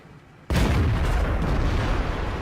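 A Leopard PTA tank gun fires in World of Tanks, one sudden loud blast with a long rumbling roar that fills the rest of the moment.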